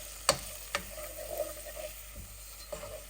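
Flour is stirred into cooked vegetables in a pot for a seafood chowder, giving a few sharp scraping knocks of a spoon against the pot over a faint soft sizzle, close and fairly quiet.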